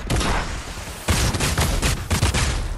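Dense bursts of Fortnite video game gunfire crackle loudly and almost continuously, with a sharper, heavier volley starting about a second in and repeated rapid shots after it, and no talking.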